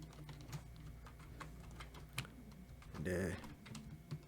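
Rapid, steady keystrokes on a computer keyboard, close and crisp, while someone talks quietly over them; a brief louder clattering burst comes near the end.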